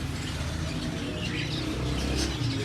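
Birds in a bird shop, including pigeons, doves and finches, chirp and coo continuously in a busy, close chorus over low background noise.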